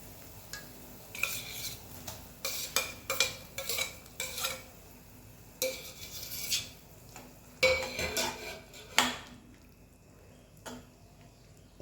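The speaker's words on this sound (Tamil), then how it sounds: "வேக வச்ச உருளைக்கிழங்கு சேர்த்துக்கிறேன்" A spoon stirs and scrapes boiled potatoes into a thick simmering poori masala in a pot, irregular clacks and scrapes against metal, quiet bubbling between strokes.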